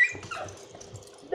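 Dogs whimper and yip softly, short faint whines and a small bark-like yelp near the end, set against quiet room noise.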